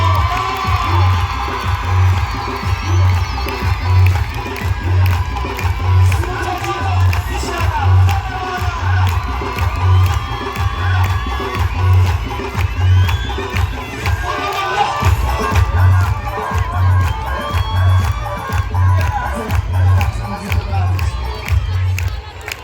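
Excited crowd cheering, shouting and whooping over a thumping rhythmic beat, a loud mass of voices with scattered calls layered on top.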